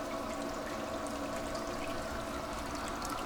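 Water recirculated out of a barrel by a 12-volt, 1100-gallon-per-hour bilge pump, a constant close rushing pour and trickle that holds steady throughout with no pauses or talk.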